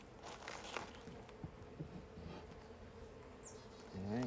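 Honey bees buzz during a beehive inspection, a soft, continuous hum of many insects close by with small rises and dips in pitch.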